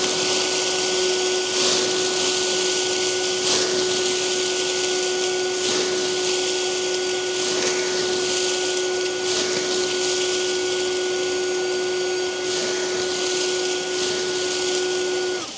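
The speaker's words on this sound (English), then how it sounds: "I'll run on turbo for the rest of the time, and that'll really show you how far and how fast this thing can move this pile" An Echo eForce battery leaf blower runs on turbo at 25 newtons of pushing force, moving a pile of leaves. It gives a loud, steady, continuous whirring roar with a constant whine and no pauses.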